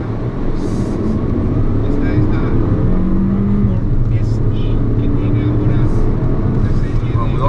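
A 2016 Toyota RAV4 with a 2.5-liter four-cylinder accelerates in sport mode, its engine drone rising steadily in pitch as someone talks over the cabin noise.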